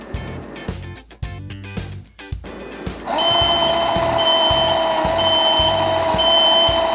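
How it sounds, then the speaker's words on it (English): A PLC-controlled buzzer on an Omron CP1E setup gives several seconds of rhythmic, pulsing beeps, then drones continuously, loud and steady, holding a harsh high tone to the end. "Selepas 30 saat, buzzer dan motor akan berfungsi."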